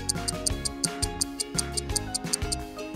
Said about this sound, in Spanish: Arpa.